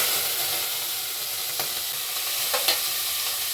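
Chopped onion frying in a pan with cumin and green chilli, a steady broadband sizzle throughout with a few sharp scraping clicks of a spoon stirring near the end, close and continuous with no talk.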